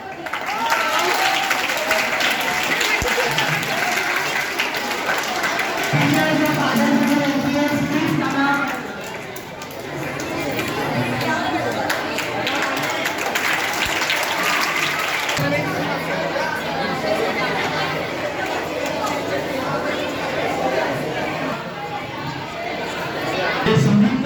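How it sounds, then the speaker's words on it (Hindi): An audience at a school prize distribution at Adarsh Nagar MPS School claps steadily and at length, with crowd chatter and a voice over a loudspeaker running beneath the applause. "तालियां बजाओ।"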